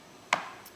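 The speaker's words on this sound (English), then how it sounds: "doing my very own chopping, I should say" Kitchen knife chopping vegetables while making keto chow mein: a single crisp chop on a board, close and clear against a quiet room, followed by a faint second tap.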